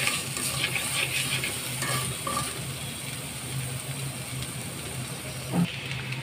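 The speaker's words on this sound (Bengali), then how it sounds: "আলু ভেজে নেব" Potatoes frying in oil in a pan make a continuous crackling sizzle, with scraping and stirring clatter over it, and no voices.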